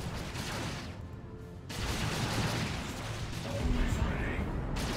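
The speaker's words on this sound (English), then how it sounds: "The AoE effect of the Slaanesh cannons just being very effective." Slaanesh cannon artillery fire in the Dawn of War strategy game, rolling booming blasts layered into dense battle noise, loud and continuous with a brief lull partway through, under a commentator's voice.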